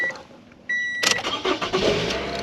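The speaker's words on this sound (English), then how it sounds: "So I'm going to start the car." A 2014 Toyota Camry sits with chimes ringing, then its engine cranks and catches with a sudden loud burst that settles into a close, steady idle.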